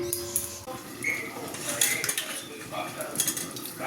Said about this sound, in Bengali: গ্যাসটা নিভিয়ে দিই ঢাকা দিয়ে দিই